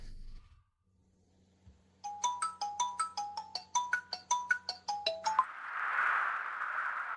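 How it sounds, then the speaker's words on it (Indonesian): A phone ringtone for an incoming work call: a quick melodic sequence of bright chiming notes repeating rhythmically for several seconds, then stopping and giving way to a soft hiss. "Ada telepon kerja masuk."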